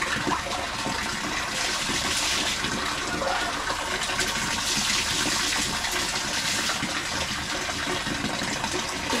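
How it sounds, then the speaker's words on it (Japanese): Steady rushing spray of a shower running close by in a village guesthouse in Thailand, a continuous broadband hiss with no talking. "それではシャワー浴びましょう"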